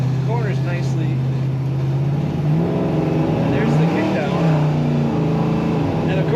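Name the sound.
1972 Chevrolet C10 truck engine kicking down, accelerating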